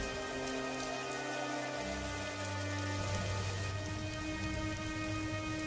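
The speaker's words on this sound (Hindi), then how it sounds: "एक दिन अचानक आसमान में काले बादल छा जाते हैं और हवाओं के साथ जोर जोर से बिजली कड़कने लगती है" Heavy rain pours steadily on a surface while low thunder rumbles in the background, loud and continuous throughout.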